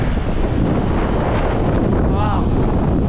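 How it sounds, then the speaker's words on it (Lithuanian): Strong wind buffets the microphone beside an Icelandic waterfall, a loud continuous roar and rumble of rushing air and water, with a brief faint voice near the end. "Ir vėjas kosminis."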